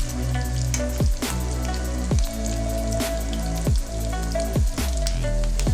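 Squid pieces frying in oil over a medium flame, a continuous close crackling sizzle with sharp pops, under a faint tonal background.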